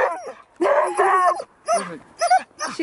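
A vocal Alaskan husky sled dog whines and yips in several close, loud bursts separated by short pauses, with no talking.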